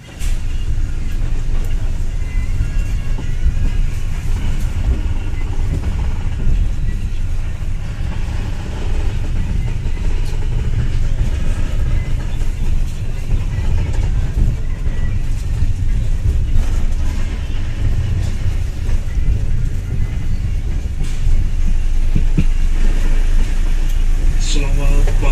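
Along an Indonesian railway line, a passenger train hauled by a CC locomotive rolls past with a steady, heavy rumble and engine drone that stays loud and continuous throughout.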